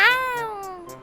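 A cartoon cat lets out one loud, close meow that slides downward in pitch over about a second, heard alone with no talking.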